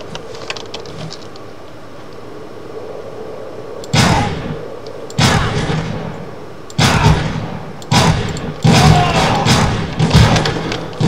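Several loud, sharp bangs ring out at irregular intervals after a quiet stretch, each with a short echoing tail, gunfire in the video game XIII.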